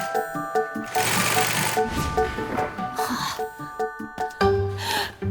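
An industrial sewing machine stitches the back wall of a bouncy castle in quick rhythmic bursts of rapid needle clatter, close and fairly loud, with brief pauses and bits of other noise between runs.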